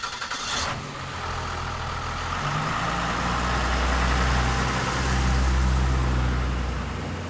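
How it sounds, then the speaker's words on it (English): Roadkill ramp truck rolling down the road, a steady low engine drone and rumble that swells as it accelerates, loud and continuous with no talking. "I like driving this truck, Dave."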